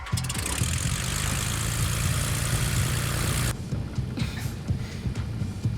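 Fighter plane engine roars loud and close as it takes off, a sustained broadband blast that cuts abruptly to a quieter, rumbling background partway through.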